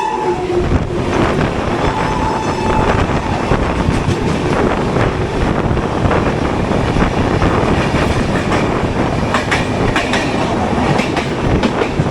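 The Purba Express passenger train pulls into a station with a loud, continuous roar of rolling carriages and rhythmic wheel clatter, a brief tonal horn-like note sounding early on, with no voices.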